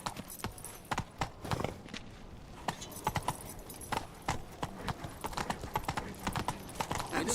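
Horse hooves clip-clop in a steady walking rhythm as the horse Roach is ridden in The Witcher 3: Wild Hunt, crisp repeated hoof strikes close up with no speech.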